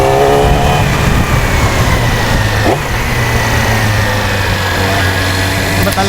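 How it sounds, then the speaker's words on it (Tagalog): A 2020 Yamaha R6 sports motorcycle accelerates hard with a loud, steady, high-pitched engine roar. The engine note rises and is sustained through the whole stretch. "Grabe talaga pagkagat ng mga sports bike."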